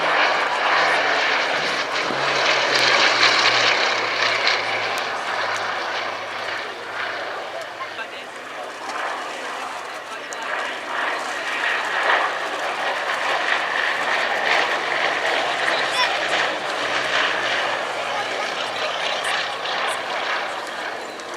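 A Bristol Blenheim fighter flies at the RAF Cosford Airshow, its piston engines and propellers droning steadily at mid distance for the whole stretch, swelling slightly, while a commentator talks over it.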